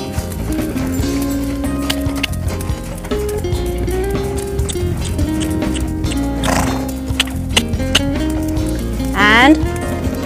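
Horse cantering during a training session, its hoofbeats thudding in a steady rolling rhythm over a sustained tonal background, with a voice briefly present.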